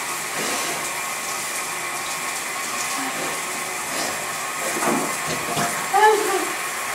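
Warm water running into a bathtub, a steady rushing hiss that continues throughout, with a brief louder splash or voice near the end.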